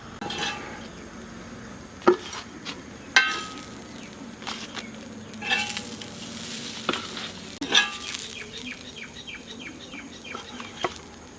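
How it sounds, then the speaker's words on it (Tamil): Masala-marinated crab fries on a dosa griddle, a low close sizzle broken by sharp intermittent metallic scrapes and clatters from turning the pieces, with no talking. "மசாலாவில் நல்லா நண்டை ஊற வச்சு தோசைக்கல்லை நம்ம இன்றைக்கி ஃப்ரை பண்ணியிருக்கோம்"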